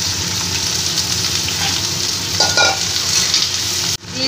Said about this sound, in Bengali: এবার ডাঁটা আর আলুটা আমি দিয়ে দেবো, দিয়ে একটু ভালো করে ভেজে নেব।